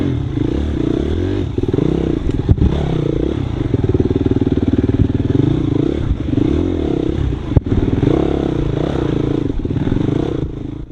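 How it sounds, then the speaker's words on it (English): Dirt bike crawling slowly through a tough single-track section at the Washougal NORCS race, engine burbling low and steady with repeated throttle blips, plus clattering and scraping as the bike stumbles over obstacles. "I'm twisting the throttle just to keep balance because I'm going so slow and stumbling over stuff"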